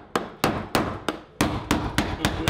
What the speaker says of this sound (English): take your blade here and just kind of hammer that in that mark